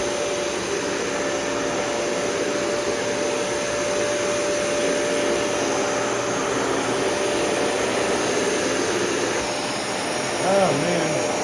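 A Dyson Cinetic Big Ball vacuum cleaner running continuously while sucking up fine particles, a loud steady whining roar with a high tonal whistle, and a voice speaking briefly near the end.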